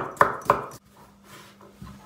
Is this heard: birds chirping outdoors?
no